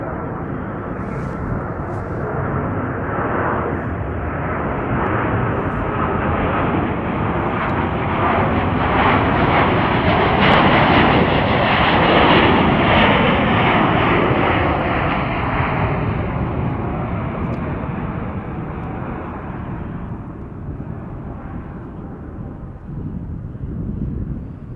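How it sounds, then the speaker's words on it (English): A Cathay Pacific Airbus A350-1000 taking off from Chicago O'Hare, its jet engines producing a loud, continuous broadband roar that swells to a peak midway, then slowly fades. Gusts of wind buffet the microphone throughout. "That was Cathay Pacific Flight 807 off to Hong Kong on an Airbus A350 1000."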